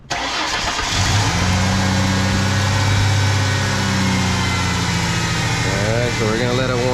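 Ford Mustang 3.8L engine that misfires when hot, cranking and catching after a brief starter whir, then settling into a loud steady idle up close, with a person speaking faintly near the end.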